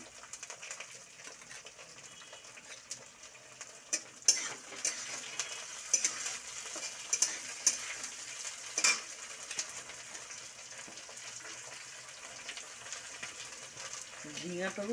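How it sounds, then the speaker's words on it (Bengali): Snake gourd, flat beans, pumpkin and eggplant fry in a pan with a steady, moderate sizzle, punctuated by sharp clicks and knocks of stirring. "এগুলো একটু ভাজতে থাকি"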